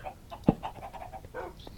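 Dogs in the Minecraft video game panting in quick, soft huffs, with a short sharp bark-like thump near the start, fairly faint and close.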